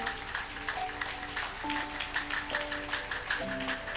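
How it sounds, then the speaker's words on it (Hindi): A congregation at a church service claps loudly in a steady rhythm, the beats sounding repeatedly over sustained keyboard chords. "क्या आप खुदा के लिए जोर से ताली बजा सकते हैं?"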